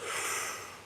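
A single quick, short breath drawn in through the nose, sharp and fairly faint, close to the microphone and fading out at the end, with no talking over it.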